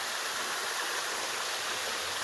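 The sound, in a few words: waterfall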